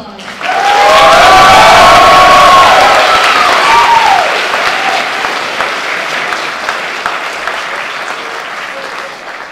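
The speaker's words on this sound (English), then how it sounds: "Let's give him a round of applause." A large audience applauds and cheers loudly for a speaker at a UCLA campus event, with dense sustained clapping, shouts and whoops that peak early and then slowly taper off.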